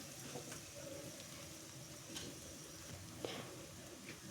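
Onions frying in oil with curry leaves for a kohlrabi palya give a faint, steady sizzle, broken by a few small pops and clicks throughout.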